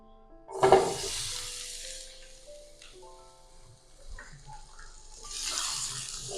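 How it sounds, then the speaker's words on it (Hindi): Ingredients for lamb or chicken kofta kebabs sizzle in a pan, a loud hiss bursting in as they go in, then settling into a steady fry that swells again toward the end. "और इन्हें फ्राई कर लेंगे थोड़ा सा सॉफ्ट होने तक।"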